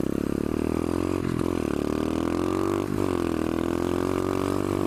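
A pit bike engine while riding across a golf course, a loud, close, continuous buzzing drone with a couple of brief dips in revs where the pitch drops and climbs back.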